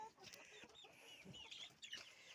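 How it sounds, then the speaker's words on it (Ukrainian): Chickens clucking and chirping softly in a coop, several birds at once with overlapping calls, moderately close, no voices. "Тут кури наші."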